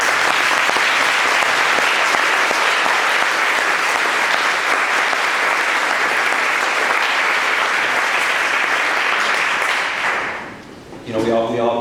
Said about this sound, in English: I want to give them a round of applause tonight also.